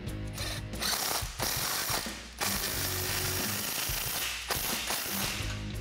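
A hand ratchet with a 15 mm socket clicks rapidly and loudly at close range while tightening an exhaust muffler clamp on a Jeep Wrangler JL, in several long bursts separated by brief pauses.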